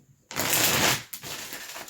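Tarot cards are shuffled in one quick, close riffling burst lasting about a second, followed by a softer brief rustle as a card is pulled.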